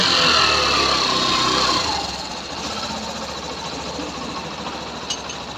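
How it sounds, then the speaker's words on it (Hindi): A rebuilt Hero Passion Pro BS6 motorcycle engine runs steadily close by, a dense mechanical chatter that eases from a higher rev to a lower, even idle about two seconds in and holds there. "तो यहाँ पे देखें आप इंजन के साउंड सुने।"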